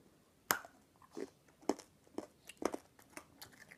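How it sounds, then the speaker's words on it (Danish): Close, crisp chewing of sour candy: a series of sharp, wet crunching bites at an uneven pace, loud near the mouth with quiet gaps between chews and no talking. "Jeg skal prøve at tygge på det."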